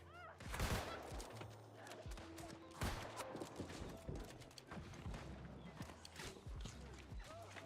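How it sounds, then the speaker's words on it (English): Bursts of gunfire crack repeatedly through a New World fight, irregular shots scattered among clattering movement and other action noises, fairly faint overall. "Someone's shooting at him."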